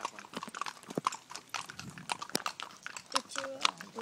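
Horse hooves clip-clopping in an irregular rhythm nearby during a horseback ride in Baguio, with people talking over them.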